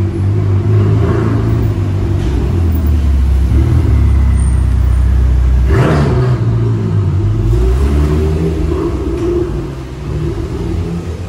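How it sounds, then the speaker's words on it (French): A Ferrari F430 Spider drives past in a Monaco car park, its engine a loud, close, continuous rumble and rev that swells and then eases slightly as it passes. "Une F430 Spider."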